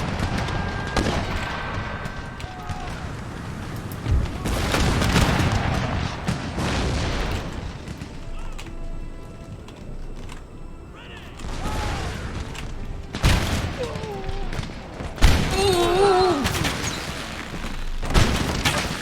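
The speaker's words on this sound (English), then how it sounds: "Right, just go for explosive shell now." Artillery in a Total War Darthmod battle of the American War of Independence fires explosive shells, heavy booms and scattered volleys rolling out in bursts across a noisy battlefield, with brief speech between salvos.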